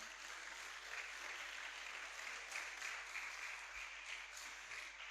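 Audience at a kindergarten graduation exercise clapping steadily for a grade 1 student, a dense, even wash of many hands that stays fairly faint and constant throughout, with no talk over it.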